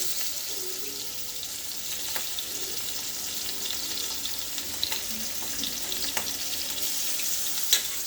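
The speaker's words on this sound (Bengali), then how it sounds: "আলুর তরকারি রান্নার জন্য মাছ ভাজা করছি" Hilsa fish sizzle in a frying pan beside a pot of potato curry, a steady close crackle of hot oil with occasional sharper pops and light stirring clinks, and no voices.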